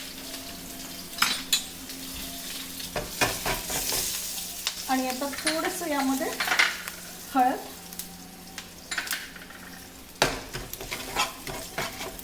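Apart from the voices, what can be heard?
spice tempering sizzling with curry leaves, chili, asafoetida, turmeric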